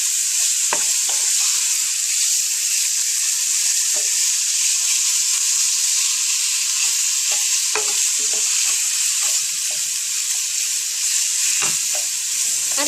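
Ground meat for a lasagna Bolognese sizzles and fries in a pan, a steady close hiss throughout, with scattered scraping knocks as the meat is crushed into small pieces.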